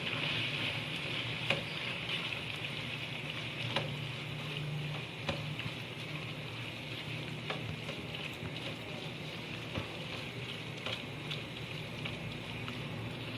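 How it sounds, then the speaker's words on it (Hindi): Raw chicken sizzles in a pan of fried masala for chicken dalia as it is stirred in, a steady close frying hiss with light scattered scrapes and taps of the spoon, no talking. "अब मैं चिकन शामिल कर रही हूँ इसमें। मिक्स कर देंगे।"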